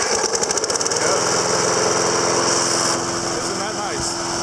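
A Snapper Big 6 electric-start push lawn mower engine cranks briefly with the key, then catches and runs steadily at a loud, even drone close by, settling slightly lower toward the end.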